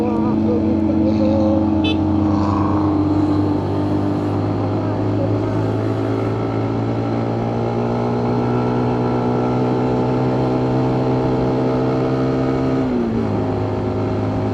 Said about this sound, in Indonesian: Ini lumayan banyak yang lewat sih, mobil, truk-truk tadi, truk-truk bawa-bawa logistik gitu.